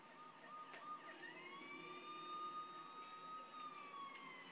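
An ambulance siren in the video game Watch Dogs wails, rising and falling in pitch, fairly faint and distant, with no talking.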